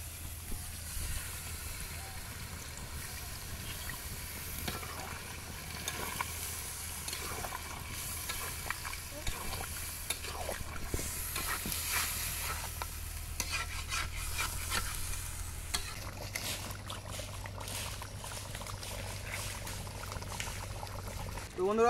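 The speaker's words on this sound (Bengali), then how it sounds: "এখন আমরা ঝোলের জন্য জল দিয়ে দেবো।" Water being poured into cooked desi chicken curry for gravy at an outdoor village picnic in a mango orchard, a continuous low hiss and trickle with stirring clatter and a faint voice now and then.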